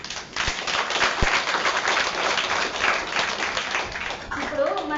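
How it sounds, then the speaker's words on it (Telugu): An audience claps loudly and continuously at a spiritual talk, a dense wash of many hands sustained throughout, with a few sharper individual claps standing out near the start. "గట్టిగా క్లాప్స్."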